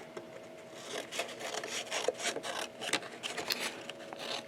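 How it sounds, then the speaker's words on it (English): Scissors or a blade cutting along the edge of a briefcase album's lay-flat binding, a quiet, uneven run of rasping snips and scrapes, close and soft, alone. "Okay, I'm going to cut along this edge."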